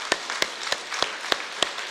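A church congregation at a Korean New Year's Eve service claps in thanks in even, unison beats, sharp claps spaced roughly a third of a second apart over a soft room hum.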